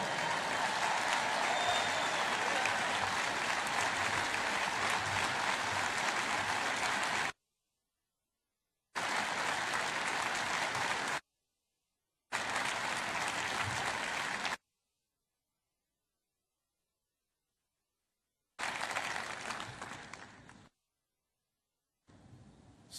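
Audience applause at a large policy conference, loud and sustained for several seconds, then broken into repeated bursts separated by sudden silent gaps.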